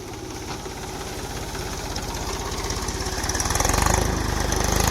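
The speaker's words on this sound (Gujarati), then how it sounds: "ટ્રેક્ટરથી જો આ રીતે રિવેસ મારે છે." A tractor engine reverses near a dam, a steady rhythmic diesel chug that grows louder and rougher toward the end, with no talking.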